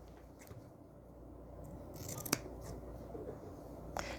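Scissors cut through quilt fabric in a few quiet, close snips, the crisp blade closures standing out against a low, steady room hum.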